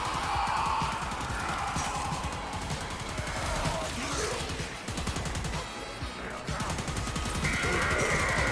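The Laetum Incarnon secondary in Warframe fires dense, continuous rapid shots, loud and sustained, layered with crashing impacts and busy game effects throughout.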